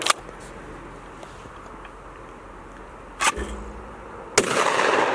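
Two sharp, close shotgun blasts ring out at skeet targets, a few seconds apart, each with a short outdoor echo over light background noise.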